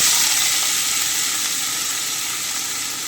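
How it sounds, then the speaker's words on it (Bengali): Boiled potatoes dropped into hot oil with panch phoron, a loud, bright, steady sizzle that slowly eases over a few seconds, with no talking. "এবারে আমি সেদ্ধ করে রাখা আলুটা দিয়ে দিচ্ছি"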